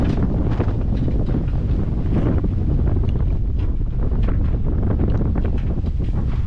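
Strong wind roars continuously, blowing hard enough to damage a roof, with heavy buffeting against the microphone, loud and unbroken throughout, with no voices.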